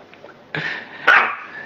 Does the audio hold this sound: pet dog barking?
yes